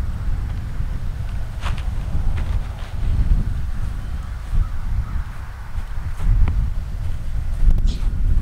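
Steady wind gusting outdoors at an archery setup, a constant low rumble buffeting the microphone throughout, swelling in a few stronger gusts, with brief distant bird calls above it.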